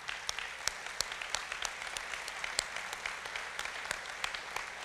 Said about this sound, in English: let's give them a big round of applause for participating in that